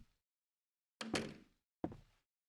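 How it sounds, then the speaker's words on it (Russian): Knocking on a door in the horror video game Akai Onna: a faint tap, then two heavy, close thuds about a second apart, each ringing out briefly in an otherwise silent room. "Там кто-то стучит."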